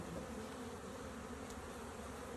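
Honeybees in an open beehive during an inspection make a dense, continuous buzzing drone, steady and fairly close, with no voices over it.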